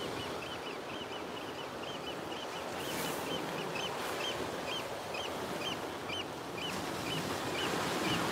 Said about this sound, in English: hear the birds squawking.